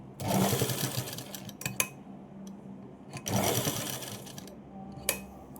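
A sewing machine stitches buttonholes on a blouse in two close bursts of fast mechanical whirring, separated by a pause with clicks as the presser foot is raised and lowered.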